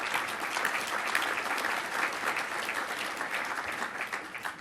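A room full of listeners at a public address breaks into sustained, dense applause, steady and loud throughout with no voices above it.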